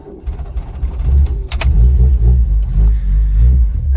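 A Vauxhall Nova's small petrol engine pulls off a driveway, a close, loud low rumble with brief revs and a short metallic clink partway through.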